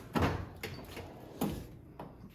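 A heavy toolbox drawer in a small garage shop slides and thuds, with three or four distinct knocks over a couple of seconds, close and fairly loud, no talking.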